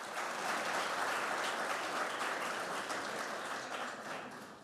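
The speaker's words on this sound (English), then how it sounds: "Let's give them a round of applause." Sustained audience applause at a conference welcome session, a thick wash of clapping from many hands that stays loud and even, tapering slightly at the end.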